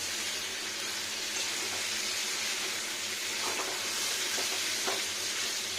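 Steady sizzling of chicken and onions frying in a pan for chicken kosha, a continuous close crackle with faint scraping stirs, no talking.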